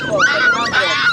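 A black puppy for sale at a market gives a quick run of high, close yips and whimpering barks, loud and continuous for about a second.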